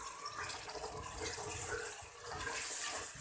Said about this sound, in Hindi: थोड़ा सा पानी का छींटा और लगाऊंगी